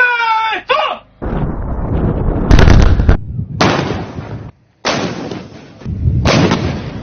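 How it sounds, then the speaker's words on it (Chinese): Artillery firing shells during a high-plateau military exercise by China's Western Theater Command, several loud, close booms with rumbling tails in quick succession, preceded by a brief shouted order. "数十枚炮弹呼啸而出，向敌阵地飞去。"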